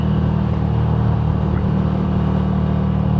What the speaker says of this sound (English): Little Ford Focus with aftermarket exhaust.